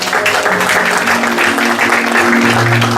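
A church congregation applauding in praise during a service, with dense, loud, continuous clapping throughout and faint voices mixed in.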